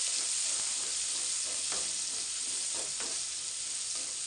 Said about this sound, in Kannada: ಈರುಳ್ಳಿ ಹಾಕ್ತಿದ್ದೀನಿ ಇದು ಒಂದು ಚೆನ್ನಾಗಿ ಫ್ರೈ ಆಗಲಿ